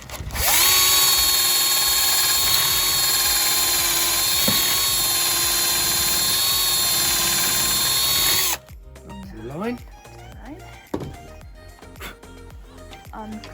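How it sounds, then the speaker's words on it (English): A loud, steady power drill whines continuously for several seconds drilling wood clamped in a jig, then stops, followed by quieter clicks and handling noises. "So you clamp it in and then drill."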